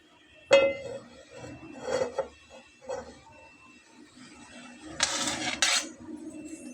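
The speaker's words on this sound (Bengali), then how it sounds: "একটা খুন্তির সাহায্যে খুব ভালোভাবে এটাকে ছড়িয়ে দিচ্ছি।" A metal spatula spreads oil around a hot frying pan, making several sharp clinks and taps against the pan. A brief scraping, sizzling rasp follows near the end.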